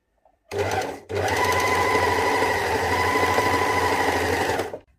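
An overlock serger runs steadily as it sews and overcasts a dress sleeve, with a short stop about a second in before the even motor whir and needle clatter continue close and loud.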